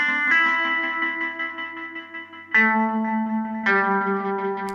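A Mellotron M4000D MkII rock guitar voice runs through an Undulator effect and reverb, playing three sustained, shimmering chords, each struck and left to ring, with a wavering modulated texture.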